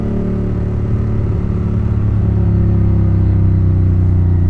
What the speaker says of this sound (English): It's such a nice sounding bike.